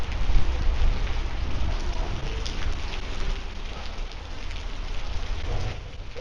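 Steady rain pours down outdoors near a metro station entrance in Tashkent, a dense continuous hiss with low rumble, loud and close throughout with no voices.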